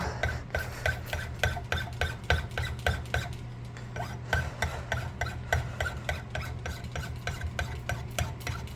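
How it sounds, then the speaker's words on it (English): A finer file rasps along an octagon axe handle in steady repeated strokes, close and fairly faint, each pass a short scraping burst over a constant low hum, with no talking. "Finer file."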